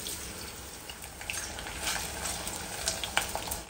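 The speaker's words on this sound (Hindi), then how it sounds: "हम आलू डालकर फ्राई करेंगे" Potatoes frying in hot oil in a home kitchen, a continuous soft sizzle and crackle with a few brighter pops, close and steady, no talking.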